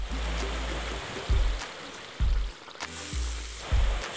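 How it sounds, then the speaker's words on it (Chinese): Water is poured slowly into a pan of caramelized sugar, producing loud bursts of bubbling and sputtering that come in several surges and fade between them. "慢慢的加水下去"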